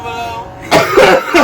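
After a first hit of Grapefruit OG cannabis smoke, a person coughs close up, three harsh throaty bursts in quick succession following a brief quiet moment.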